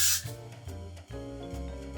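Hairspray gives one short, sharp hissing burst onto hair styled with hot rollers and duckbill clips, then stops, and a soft musical backing carries on alone.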